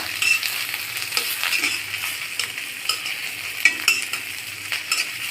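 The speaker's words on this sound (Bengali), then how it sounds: "পেঁয়াজ কুচিটা 3 থেকে 4 মিনিট নেড়ে চেড়ে বাদামি কালার করে নিব।" Chopped onions fry in a pan while being stirred, a steady bright sizzle with a string of soft scraping taps from the utensil, close and fairly loud, with no voices.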